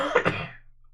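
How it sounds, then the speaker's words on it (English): A single short throat clearing, close and fairly loud, with two quick rough bursts that fade out within a second. "let me clear my throat"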